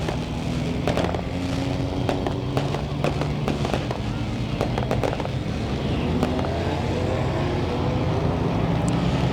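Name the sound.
fireworks lighting up the sky over a racetrack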